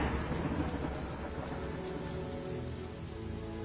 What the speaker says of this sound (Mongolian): Энэ борооч нь бүр ширүүслээ.